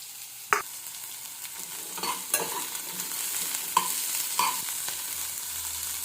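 Finely chopped country onions frying in oil in a pan, a steady close sizzle broken by several sharp scraping stirs of a spatula at uneven intervals, with no voices.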